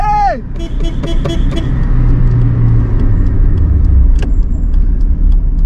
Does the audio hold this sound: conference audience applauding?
no